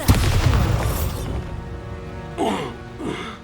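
The Bombarda explosion spell in Hogwarts Legacy, a loud booming blast at the start that rumbles and fades, followed by two shorter swooping magical whooshes.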